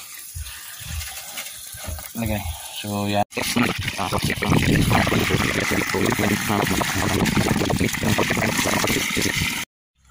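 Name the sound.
water showering onto yardlong bean plants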